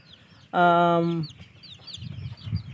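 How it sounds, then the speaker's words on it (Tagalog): Aseel Shamo heritage chicks and chickens on a breeding farm, with one loud, harmonic, drawn-out call lasting under a second, followed by softer scattered clucks and rustling. "So dito mayroon tayong heritage dito, yung mga sisiw."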